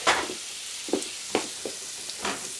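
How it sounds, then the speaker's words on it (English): Butter, fresh garlic, chopped basil and bay leaves sizzle in a pan under a bright continuous hiss, while several quick stirring strokes add soft scrapes at irregular intervals, with no voices. "Some fresh garlic. I'm going to stir that around real quick."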